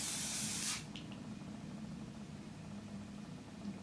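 A close, hissing burst of aerosol spray-on foundation makeup lasts under a second, then cuts off, leaving a quiet room hum.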